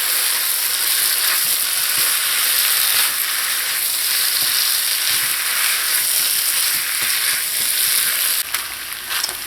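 Provision of cassava and green banana with saltfish is stirred in a pot, a steady close sizzle and frying hiss with faint scraping of the stir running throughout, no voices.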